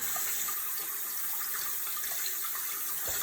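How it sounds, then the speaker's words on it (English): Running tap water pours steadily to rinse baking soda and vinegar off a penny, a continuous close hiss and splash with no pauses. "Let's rinse off some of that baking soda and vinegar from this penny."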